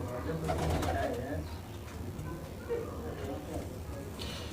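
Pigeons of a racing loft coo softly at close range in Sonipat, Haryana, low murmuring calls rising and fading, with a voice talking over them and some background rustle.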